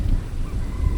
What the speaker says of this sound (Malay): Ini ayam tu, ayam apa? Ayam hutan ke?